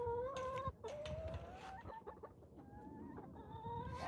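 Backyard chickens cluck and call repeatedly in a lively, overlapping flurry, close and fairly loud, with a few drawn-out squawks among the short clucks.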